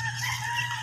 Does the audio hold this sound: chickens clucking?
yes